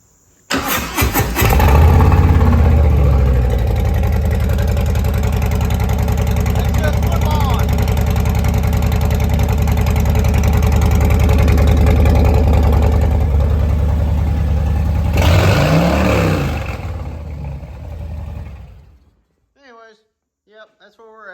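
A 1966 Ford Mustang engine cranks and catches, then idles and revs loud and steady for about fifteen seconds with a deep low rumble, a brief rev swell near the end before it shuts off, leaving faint talk.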